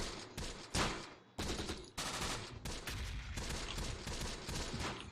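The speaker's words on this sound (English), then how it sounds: "here comes the mortars now coming in" Mortar barrage in the WWII tactical game Close Combat: The Bloody First, with repeated sharp blasts and dense overlapping explosions that keep coming, loud and crowded together, with no voices over them.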